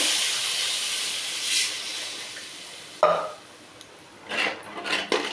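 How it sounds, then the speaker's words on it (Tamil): A steady hiss of steam and sizzling in a hot pan, followed by sharp clanks and bursts of hissing as water is poured onto the heat. "தேவையான அளவு நம்ம தண்ணியை ஊற்றிக்கலாம்."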